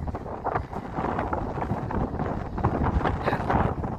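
Strong wind buffets the microphone in Mariehamn on Åland, a rough, gusting roar that swells and dips throughout, with no voices.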